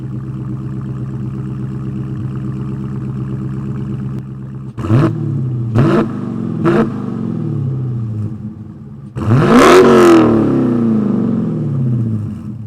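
A Dodge Challenger R/T Scat Pack with a 6.4 liter V8 idles with a steady rumble. Then come three quick, sharp throttle blips and one longer, louder rev that swells and falls back to idle, close and with no voices.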